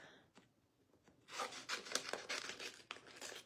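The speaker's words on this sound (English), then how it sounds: "And then gonna cut this off." Paper edge being cut off a decorative craft piece, a soft crisp run of snipping and rustling close up after a few faint taps, quiet and without talk.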